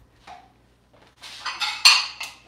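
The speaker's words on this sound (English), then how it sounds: "And so now I'm just gonna dish it up for the boys" Frosted cinnamon rolls are served onto plates. A faint knock comes first, then a run of bright utensil clinks and scrapes against dishes that grows louder, with no voices.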